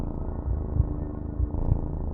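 A cat purring close by, a steady low rumbling purr with a few rhythmic louder pulses, heard alone without speech.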